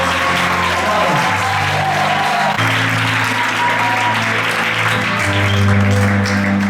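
A French-speaking congregation at a night vigil applauds and cheers over loud music, with sustained instrumental tones and a strong bass line running under the clapping throughout.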